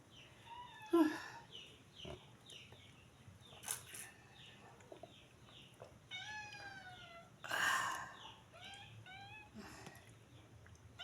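Several cats meow repeatedly in a quiet home setting, their rising cries coming close and clear in scattered bursts with pauses between them.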